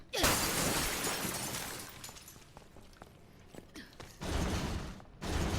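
Glass shatters in the survival horror game Resident Evil Revelations 2. A loud crash breaks at the start, then clicks and creaks follow, and two more heavy bursts of breaking noise come near the end, with no talking.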